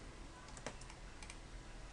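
Computer keyboard keys clack a few times during work in Maya, a handful of quick, light presses spaced irregularly over a soft steady room hiss, fairly faint and with no voices.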